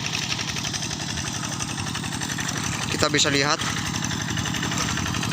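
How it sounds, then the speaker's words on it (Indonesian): Kubota RD85 diesel engine on a TL800 walk-behind hand tractor running steadily with a dense, continuous rhythmic chug throughout, close and loud, while someone speaks briefly over it. "Ini jenis traktor dorong TL 800"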